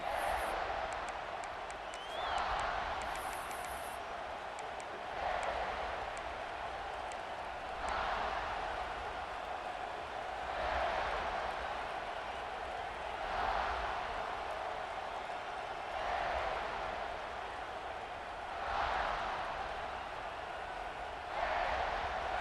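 Stadium crowd noise in EA Sports College Football 26 during an Alabama versus USC game: a steady roar of cheering that swells in regular pulses every few seconds, with no talk over it.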